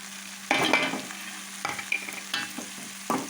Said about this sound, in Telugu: ఇప్పుడు మనకి ఉల్లిపాయలన్నీ బాగా ఫ్రై అవుతాయి ఇప్పుడు గరం మసాలా పౌడర్ ఉప్పు కారం అంతా ఇందులో వేసేసుకుంటాం